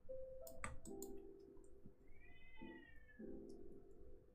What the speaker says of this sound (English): There are wild cats being angry right now.